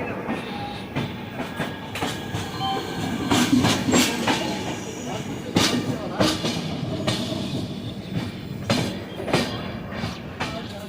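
Rhythmic clickety-clack of a moving Prashanti Express train heard from inside a first-class AC coach, wheels thumping over rail joints in repeated pairs, with steady rumble and occasional faint talk underneath.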